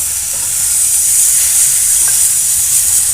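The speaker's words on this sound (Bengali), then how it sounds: "এখানে আমি একটু কাঁচা লঙ্কা বেঁটে রেখেছিলাম এই লঙ্কা বাটাটাও দিয়ে দেব" Green chili paste goes into a pan of small puti fish frying with eggplant and spring onion, giving a loud, steady, close sizzle that holds unbroken throughout.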